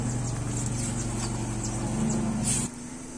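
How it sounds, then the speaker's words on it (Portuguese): A truck passes along a street in front of a house garden, a steady low engine rumble with a throaty drone that holds strong, then cuts off sharply near the end, leaving quieter outdoor ambience. "Tem um barulho de um caminhão passando aí."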